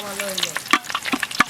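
Dried chillies and bay leaves frying in hot mustard oil give a close, steady sizzle with quick spitting crackles and pops scattered throughout.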